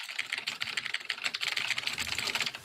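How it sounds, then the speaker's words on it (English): Computer keyboard clacking heard over voice chat during a clan war game setup, rapid irregular keystrokes close to the microphone, steady and fairly quiet, no talking over it. "before we were not hearing your keyboard"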